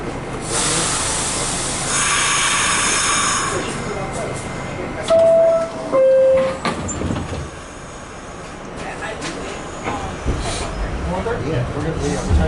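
Riding aboard an MTA subway D train between 42nd Street–Bryant Park and Columbus Circle: steady rumbling and rattling, a two-tone door chime midway, and passengers and announcements talking over the ride.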